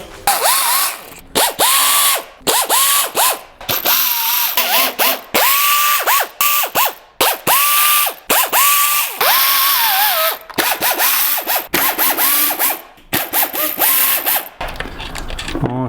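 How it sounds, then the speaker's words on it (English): An air ratchet spins bolts loose on a Kia during transmission temperature sensor work, loud and close, with rapid ratcheting bursts that start and stop repeatedly, separated by short pauses. "I'm going to be using an air ratchet because I don't want to be here all day"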